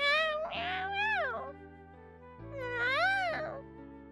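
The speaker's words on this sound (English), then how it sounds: "Yeah, this cat's cute." A cat meows twice in a manga dub scene, two clear rising-and-falling calls about two seconds apart over quiet background music, close and moderately loud.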